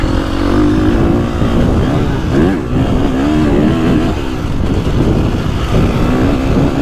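A 2025 KTM 350 XCF four-stroke dirt bike engine under a rider, loud and close, droning and revving continuously with rising and falling pitch throughout.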